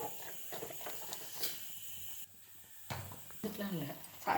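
Water boils steadily in a covered pot with small onions, a soft continuous hiss and bubbling with a few faint clatters.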